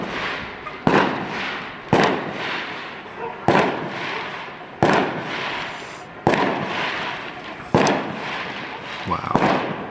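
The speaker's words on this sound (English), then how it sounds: "There's fireworks going off in the distance." Fireworks burst in the distance, six or so sharp booms spaced about a second apart, each followed by a rolling echo, with crowd noise and banging drums continuing underneath.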